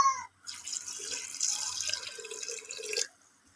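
Water gushes from a stream into a pot of mutton curry for about two and a half seconds. The pour is a steady, close splashing rush that stops abruptly.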